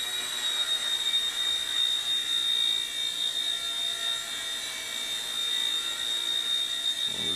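A Hisky HFP100 V2 small RC helicopter hovers close by with a steady high-pitched rotor and motor whine, constant and fairly loud, with no talking.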